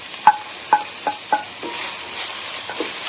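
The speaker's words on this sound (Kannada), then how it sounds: "ಟೊಮೊಟೊ ಮೇಲೆ ಜೊತೆ ಚೆನ್ನಾಗಿ ಫ್ರೈ ಆಗಲಿ." Tomatoes frying with ginger garlic paste for egg masala. A soft sizzle sits under a handful of spaced, distinct scraping stirs of a spatula in the pan, close and alone.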